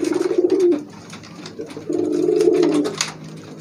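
Racing pigeons coo close by in low, throaty rolling calls, two longer bursts separated by a pause, with fainter bird chatter and rustling around them.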